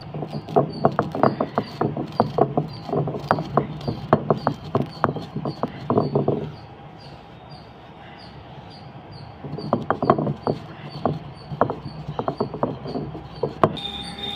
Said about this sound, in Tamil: எடுத்த கடுகையும் வெந்தயத்தையும் அம்மியில் இப்போ பொடி பண்ணிக்க போகிறோம்.